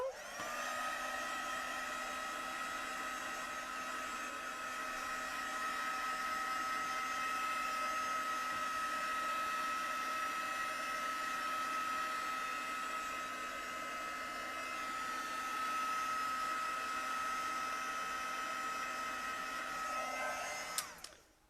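Hair dryer drying watercolour paint: a steady, loud, continuous whine and blowing roar held close for about twenty seconds before it cuts off abruptly, with no talk.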